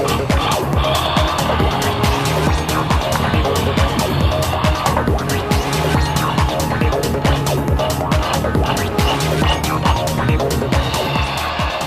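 A 1:24 scale wireless remote control race car drives about, its tiny motor whining with rapid clicks and sharp squeaks that keep going, and a voice talks now and then underneath.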